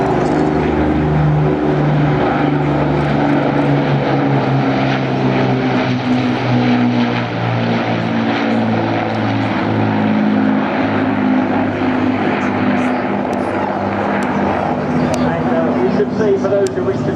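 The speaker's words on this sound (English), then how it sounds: "it's the RAF's Lancaster that's leading, and the Canadian Lancaster is second" Two Avro Lancaster bombers, the RAF's and the Canadian example and the last two airworthy, fly past at a seaside air show in Clacton-on-Sea, Essex. Their piston propeller engines keep up a loud, steady, continuous drone, with a voice talking over it.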